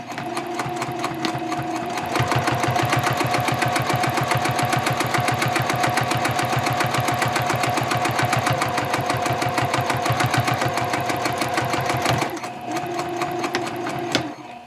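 A sewing machine top stitches a bag lining 1/8 inch from the seam at stitch length 3.0, a loud, fast, steady mechanical chatter running continuously for most of the stretch and starting and stopping at either end.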